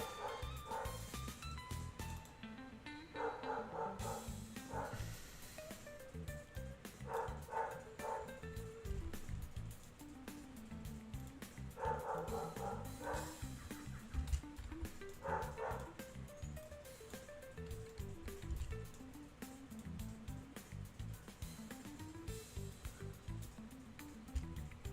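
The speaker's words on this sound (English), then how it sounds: "My dog has been barking a lot." Repeated dog barks come in short clusters throughout, spaced several seconds apart, sitting over steady background music and electronic ambience.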